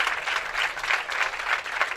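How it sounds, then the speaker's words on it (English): Steady applause from a bowling crowd at the U.S. Amateur Championships stepladder finals, moderately loud and continuous, with rhythmic swells of clapping. "Nice round of applause for Mabel Cummins"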